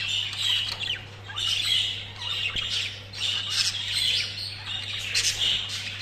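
A pair of pet birds, being paired for mating, give repeated loud squawks and calls in close bursts over a steady low hum, with no talk.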